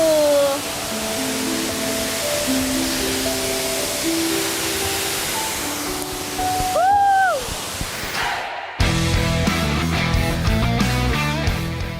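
Waterfall at Leunsalama on Wawonii, the top tier used for canyoning, a steady rushing roar of falling water under background music that cuts to a different tune near the end.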